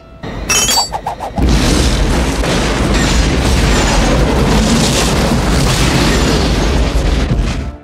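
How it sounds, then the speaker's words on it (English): A bomb explodes in a film scene as a huge, loud boom with debris shattering around it. A low rumbling roar follows and keeps going for several seconds. "Tied to the other end of the rope was Richie's bomb, which detonated just as the monster discovered it."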